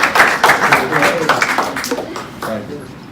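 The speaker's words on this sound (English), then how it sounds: "Let me get a clap." A small audience gives a brief burst of clapping, quick uneven claps that mix with talking and fade out within a few seconds.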